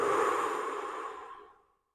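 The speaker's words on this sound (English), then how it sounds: "Take some breaths again." A deep cleansing exhale during a stretching routine for low back pain, close and breathy, starting strong and tapering smoothly to silence after about a second and a half.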